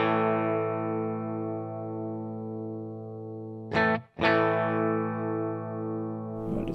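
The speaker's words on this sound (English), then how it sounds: "here's a clean high watt tone" A clean, high-wattage electric guitar amp model tone rings out in sustained chords, briefly cut off near the middle before ringing on again, with no one speaking.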